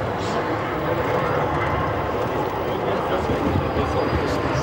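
Saab 105 OE jet aircraft flying in at an air show, a loud, steady broadband jet roar that stays at constant strength throughout, with crowd noise beneath it.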